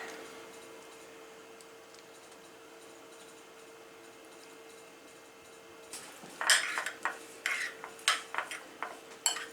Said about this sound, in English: And I'm just going to kind of mix that up